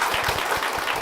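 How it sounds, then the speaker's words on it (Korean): Clapping from the congregation in a church fills a brief moment, a dense burst of many hands heard at close range without any voices. "큰 박수로 모시겠습니다"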